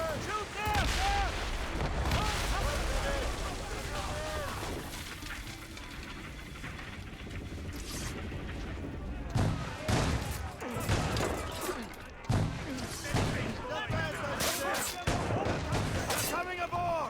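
Gunfire during a ship ambush in the video game Assassin's Creed Rogue, scattered shots and booms over a busy mix of shouting voices and battle noise, with the loudest cracks clustered toward the end.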